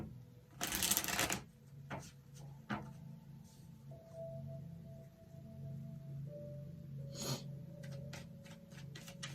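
Tarot cards being shuffled up close, with a loud riffle burst near the start followed by softer sliding and flicking of the deck, fairly faint overall and with no voices.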